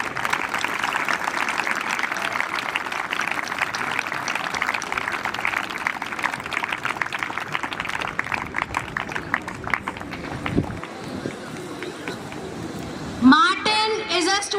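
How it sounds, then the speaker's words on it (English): Children clap together at a school sports day, a steady dense patter of applause that carries on for several seconds, then thins out and gives way to other noises and a voice. "A huge clap, children."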